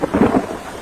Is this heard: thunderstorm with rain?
yes